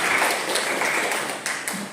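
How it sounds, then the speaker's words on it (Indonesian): Applause from a seated audience at an Indonesian talk show on deep learning, a dense, steady patter of clapping hands filling a short burst at fairly close range. "Tepuk tangan dulu Bapak Ibu semuanya."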